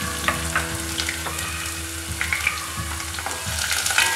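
Mustard seeds, fenugreek and chopped garlic fry in hot oil in a pan, giving a steady close sizzle dotted with small crackling pops.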